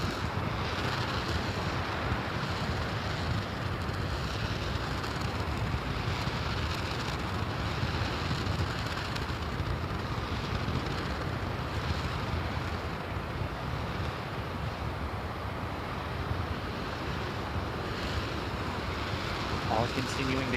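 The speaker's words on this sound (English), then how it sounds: "Just letting you all listen to the sounds of those engines." SLS core stage rocket engines roar during a hot fire test, a continuous broadband rumble heard from a distance, steady and unbroken with wind-like hiss throughout.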